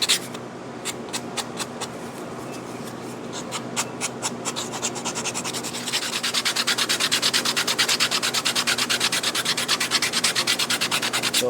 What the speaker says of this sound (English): But first things first, I think sanding up some of these spots.